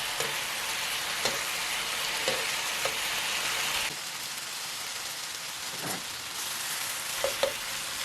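Pork belly sizzles in a frying pan with no added oil, a dense, steady crackle broken by occasional light taps and clicks, easing slightly in level partway through.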